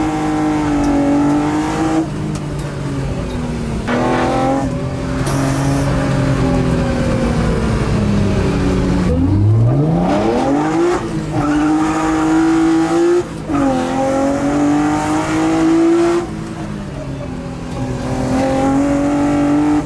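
M3-engine-swapped BMW E30 accelerating hard, a loud, raspy engine climbing through the revs with brief dips between gear changes, close and continuous.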